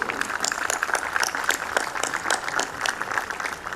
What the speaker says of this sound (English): Audience, can we have a round of applause for all these people that I have mentioned?